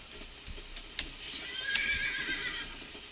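A horse in the video game GUN whinnies sharply, with hoofbeats clip-clopping underneath during a gallop, all fairly faint against a hissy game soundscape.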